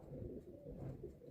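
Pigeons coo softly in low, throaty, repeated rolls, close but faint, with no speech over them.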